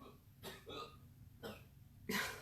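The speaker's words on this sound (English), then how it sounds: "my son's coughing out there." Three separate muffled coughs from a child, spaced about a second apart, sound faint and distant from another room, with the last slightly louder.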